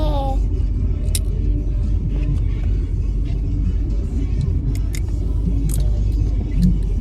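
Inside a car moving slowly through traffic, a constant low road rumble fills the cabin with faint clicks and rattles on top, steady and close throughout.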